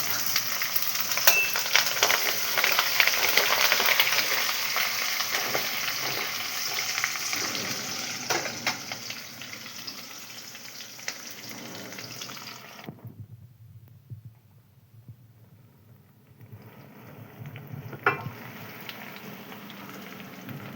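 Green chilies and ginger frying in hot oil for a homestyle garlic pickle give a steady, close sizzle with occasional stirring clinks, which fades sharply for a few seconds near the end before a softer sizzle returns.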